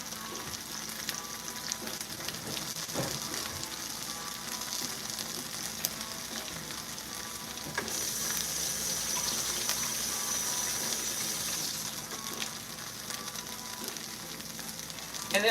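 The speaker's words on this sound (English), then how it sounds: "you're gonna just pop an egg on here. This is why I love these little frying pans." An egg fries in a small frying pan, giving a steady, close crackling sizzle that holds throughout and swells briefly partway, with no talking.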